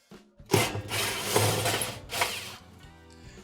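Screws being removed with a number 2 Phillips screwdriver from the front of a KitchenAid oven broil element, heard as a close, continuous scraping and rasping of metal and tool handling lasting about two seconds, with lighter clicks and rattles after.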